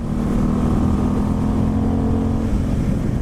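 A 2018 Moto Morini Corsaro ZZ motorcycle engine runs loud and close, with a deep steady drone and a constant humming tone. There is no traction control, and the throttle is held open for the whole stretch.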